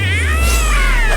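A cartoon cat lets out a long, wavering, drawn-out meow with rising and falling pitch, loud and close over a low background hum.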